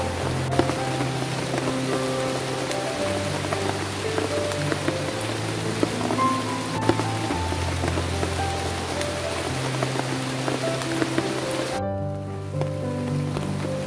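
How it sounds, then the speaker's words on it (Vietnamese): Rain pours steadily on a rainforest, a continuous hiss of falling water heard from under shelter, with low sustained tones underneath. "Giờ không biết làm nào, đứng đây trú mưa đã thôi."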